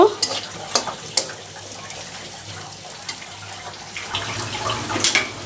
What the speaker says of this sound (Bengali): পেঁয়াজ মরিচগুলো ভাজা হয়ে গেছে, এখন তুলে নেব।